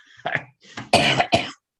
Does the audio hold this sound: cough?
yes